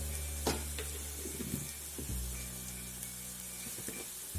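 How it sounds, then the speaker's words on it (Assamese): Onions sizzle and fry in a pan with turmeric while a home curry of local chicken is being cooked, a steady close hiss broken by a few scrapes and stirring clatters. "এয়া আমাৰ পিয়াজখিনি ভাজ খাই গৈছে"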